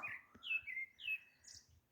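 A small bird sings outdoors near flowering akebia vines, a few bright rising chirps and whistled notes in quick succession, moderately close and fairly faint with light background rustle.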